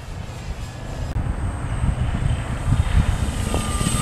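A Dynam Waco 1270mm model biplane making a slow low pass overhead, its electric motor and propeller droning steadily, with a small pitch shift as it goes by, amid wind noise outdoors.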